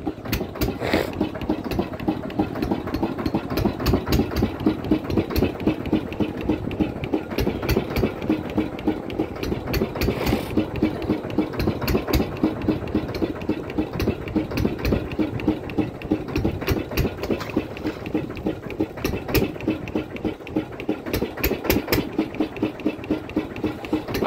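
A fishing boat engine runs on the Matla river in the Sundarbans, a loud, close, steady chugging throb with a fast regular pulse that continues unbroken throughout, with no talk.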